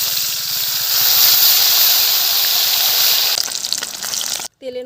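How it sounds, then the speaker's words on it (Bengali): Black cumin seeds hit hot oil in a Bengali kitchen pan, producing a loud, steady hissing sizzle that fills the clip with no talk, then cuts off briefly near the end. "তেলের মধ্যে কালো জিরে দিয়ে দিলাম"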